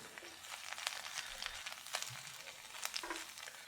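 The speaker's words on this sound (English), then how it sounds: "all you want to do is kind of stir fry this" Choy sum stir-fried with garlic in a hot pan gives a quiet continuous sizzle, with occasional scraping clicks as the greens are tossed and stirred.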